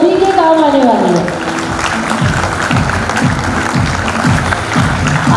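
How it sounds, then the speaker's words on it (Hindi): Audience applause at a Gurupurnima celebration in Kota, a sustained burst of clapping from a crowd that starts under a speaking voice and carries on alone at steady volume. "बस जोरदार तालियां गाइए आप सभी की"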